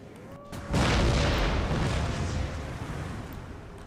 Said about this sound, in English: I want to watch how well these guys do when it comes to firing their round shot